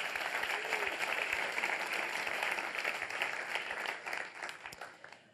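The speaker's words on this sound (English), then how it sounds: "I'd like you to give them a round of applause." A round of applause from a large conference crowd in Vienna, steady thick clapping that holds then tapers off near the end.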